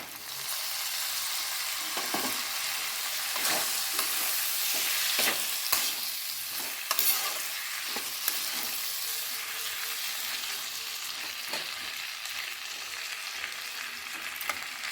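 Tomatoes frying in a pan for a spicy tomato dish give a steady, close broadband sizzle with occasional scraping stir clicks, heard alone for the whole stretch.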